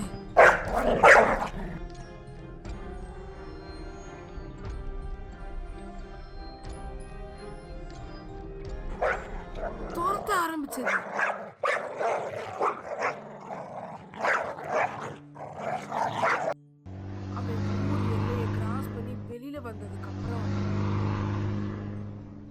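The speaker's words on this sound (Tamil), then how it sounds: "பின்னாடி இருந்து மோசமான நாய் வந்தது" A dog barks and growls amid busy, layered background sounds and music-like tones, with loud sudden bursts and a rumbling engine-like drone later.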